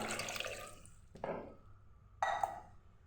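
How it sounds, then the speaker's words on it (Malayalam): Water from a glass being poured into a pressure cooker holding turmeric and salt, two short splashing gushes with a brief gap between them, close and fairly quiet. "പിന്നെ 1 ഗ്ലാസ് വെള്ളം."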